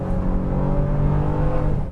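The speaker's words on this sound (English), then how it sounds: "if you want to accelerate, you can overtake people as easy as this" A 2024 Honda Pilot SUV accelerates hard to overtake, its engine note rising steadily in a loud, close, continuous drone for two seconds with no voices.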